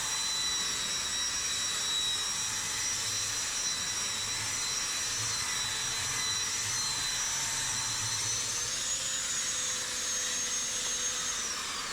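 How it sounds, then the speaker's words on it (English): A drywall sander with dust extraction runs steadily on a plasterboard wall patch, giving a loud, continuous whine and rushing airflow that hold without a break from start to finish. "I'll just get out my Tool drywall sander just to suck up the dust,"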